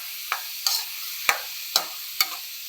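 Onion, green chili and garlic frying in hot oil for a momo gravy, with a steady bright sizzle broken by five evenly spaced stirring scrapes, close and without speech.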